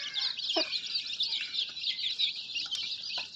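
Native desi hens clucking busily, with peeps from four-day-old chicks over a dense, steady chorus of high chirping throughout; no talking.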